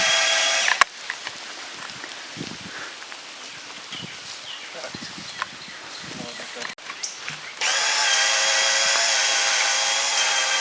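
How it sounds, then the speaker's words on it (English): A small cordless drill with a nut driver whirs steadily near the end as it raises a Spirit Lift treestand, preceded by rustling and scattered clatter outdoors with a faint voice now and then. "it's operated with just a tiny little drill here, and it's just got a nut driver on it"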